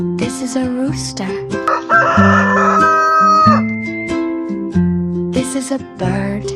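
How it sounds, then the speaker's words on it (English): A rooster crows in several loud, drawn-out calls set into a cheerful children's song, with the music running throughout and no talking. "This is a rooster."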